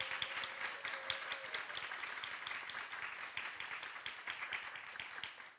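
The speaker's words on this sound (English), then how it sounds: "Let's give her a round of applause." Audience applause fills a book launch event, a steady wash of many hands clapping throughout, fairly distant and even, with a brief murmur of talk near the start.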